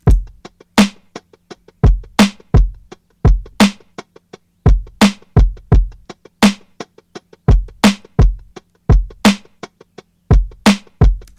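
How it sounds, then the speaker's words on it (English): Hi-hat drum loop from a lo-fi boom bap sample pack, warped to tempo in Ableton, playing a steady, even pattern of crisp closed hats with a regular punchy low thump beneath, clean and alone. "And now this hat loop should be played back at the correct speed."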